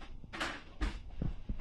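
A drawer slides open and shut as a phone is put away, two quick close sliding strokes followed by a soft knock.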